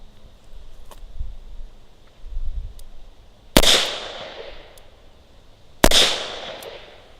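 A Smith & Wesson Model 66 Combat Magnum revolver fires two .357 Magnum rounds, each a loud, sharp crack with a ringing tail, spaced about two seconds apart over quiet ambient noise.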